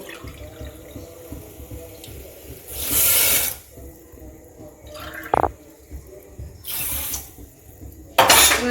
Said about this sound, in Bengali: তার সঙ্গে আমি এটা মেপে আমি দু কাপ পানি দিয়ে দেব